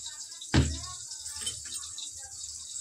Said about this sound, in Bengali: এবার এটাতে জল মেশাবো, জল দিয়ে ভিজিয়ে রাখবো।